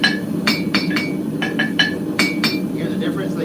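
A hammer strikes a small, old baby anvil during hand knife forging: an irregular run of about nine sharp, ringing metallic clinks, close and loud, with brief gaps between strikes.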